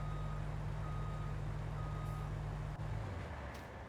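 A truck reverses in Farming Simulator 19 on The Great Plateaus map, its backup beeper holding a steady tone over a loud engine drone that drops away near the end.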